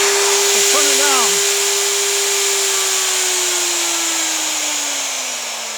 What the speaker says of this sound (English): So there's maximum speed. Let's turn it down.